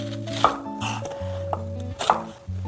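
A knife slicing an onion into thin strips on a cutting board, a few sharp, distinct chops spaced irregularly and close up, over a quiet background without talk.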